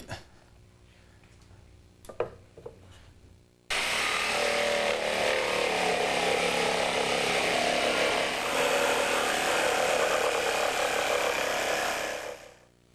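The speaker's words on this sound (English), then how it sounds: "I'm going to use the jigsaw to cut it out." A jigsaw cutting a workpiece during a small-space home renovation in Portland, Oregon, starts abruptly after a few quiet clicks and then runs loud and steady for about nine seconds before stopping, with no talk over it.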